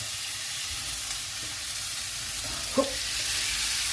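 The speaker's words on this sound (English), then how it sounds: "That's what you want, that sizzle smell, sizzle sound." Quiet, steady sizzling hiss of sirloin steak frying in a hot cast iron pan, with a faint clink partway through.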